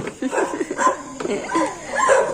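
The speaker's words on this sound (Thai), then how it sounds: "หมากระเห่าแหง" Dog barking along a street in Vientiane, Laos, during a ride on a motorcycle sidecar, heard as short yaps and whimpers under steady road noise while people talk.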